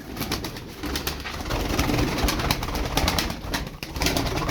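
Pigeons kept in a Turkish bird loft coo and flutter close by, a steady dense chorus of soft throaty calls with rustling underneath and no talk.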